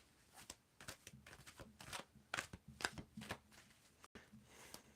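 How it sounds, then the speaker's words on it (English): Tarot cards shuffled by hand at close range, quiet irregular riffles and soft slaps in uneven bursts, with no talking. "you need to tell me when to stop shuffling Thanduzalo"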